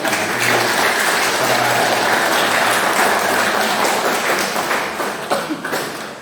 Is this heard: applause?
yes